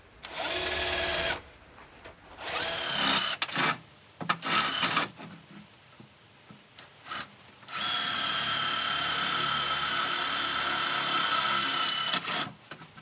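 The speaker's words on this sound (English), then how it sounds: "I'm only drilling through the first layer." A power drill whines in bursts as it bores through the steel of a Unimog 421 under restoration, starting and stopping several times before a long sustained run, loud and close.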